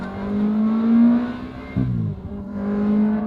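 A budget Ferrari with an upgraded exhaust revs up, its engine note rising and holding, dipping briefly, then climbing again, loud and close with no talking.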